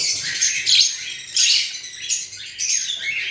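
A pair of pet lovebirds chirps up close in bursts of sharp, high tweets and squawks, three short clusters over a quiet background.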